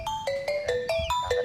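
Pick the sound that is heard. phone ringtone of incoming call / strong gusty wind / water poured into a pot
phone ringtone of incoming call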